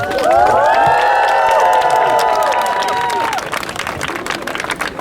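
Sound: crowd applause welcoming the mayor of Mariupol

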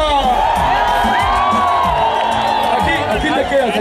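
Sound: crowd applauding and cheering for Lidia

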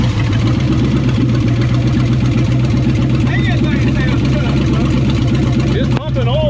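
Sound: 1963 Ford Galaxie rebuilt 390 engine running

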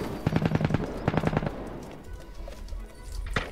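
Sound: gunfire from video game Cuisine Royale

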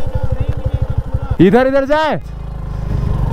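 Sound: motorcycle climbing a mountain road

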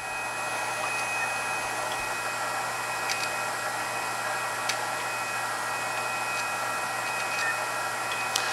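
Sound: MIG welder wire feeding through the gun

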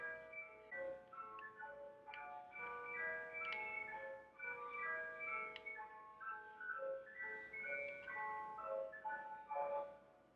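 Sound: ice cream truck playing its song

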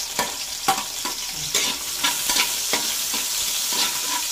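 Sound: garlic and onion sautéing in a pan

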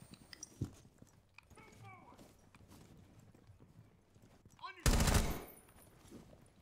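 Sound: gunfire in a video game firefight

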